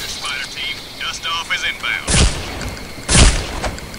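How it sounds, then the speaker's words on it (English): Two loud, sharp gunshot blasts from Counter-Strike: Condition Zero ring out about a second apart, after a stretch of chirpy electronic game sounds. "They're shooting each other."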